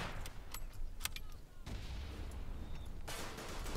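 Mortar and gunfire from the World War I shooter Verdun boom and crack in bursts. Blasts and sharp reports come at intervals, with a broad rumbling wash of battle noise between them.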